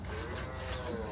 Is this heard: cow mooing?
yes